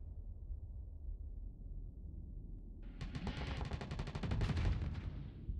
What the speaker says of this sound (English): Switch to the chain guns.